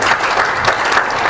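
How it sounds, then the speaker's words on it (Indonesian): An audience claps loudly and steadily in a brief burst of applause for Rocky Gerung at a public talk. "Tepuk tangan sekali lagi buat Bung Rocky"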